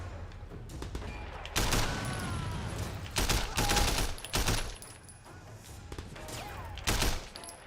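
Gunfire in the video game Sleeping Dogs, with repeated bursts of loud shots in close, irregular clusters over a busy game soundscape.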